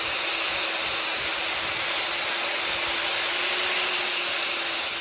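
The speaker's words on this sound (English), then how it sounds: "So we'll take the wire brush to them, get the scale cleaned off." A wire wheel brushes scale off forged steel flatters in a workshop, a constant high whirring hiss with a steady tone, loud and unbroken for the whole stretch, no voices.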